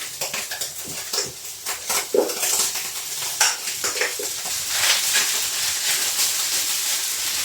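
Cooked rice tipped into a hot pan for sinangag, Filipino fried rice, brings soft scraping and clattering against the metal over a faint hiss of steam, with no voices.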